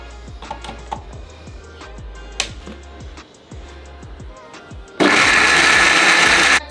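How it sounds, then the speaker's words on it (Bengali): An electric blender whirs loud and steady for under two seconds as it purees onion, coming in abruptly after a stretch of clicks and small handling taps. "সেকেন্ডে পেঁয়াজ ব্লেন্ড করা শেষ"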